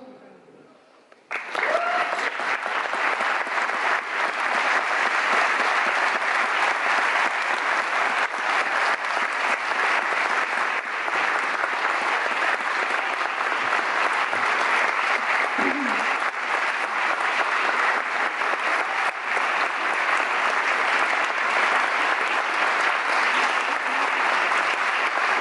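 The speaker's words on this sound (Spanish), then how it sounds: "Este aplauso de todos." Sustained applause from a concert audience after an orchestra performance honoring a guest flute soloist, a dense, steady clapping that starts abruptly and holds loud and even throughout, with no talk over it.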